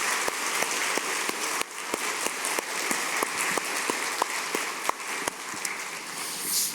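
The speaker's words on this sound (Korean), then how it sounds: "우리 한번 우리 칭찬 격려 박수 한번 좋겠습니다" A congregation claps steadily at a Sunday church service, a sustained wash of many hands with a few sharper individual claps standing out, moderately distant and alone without talk.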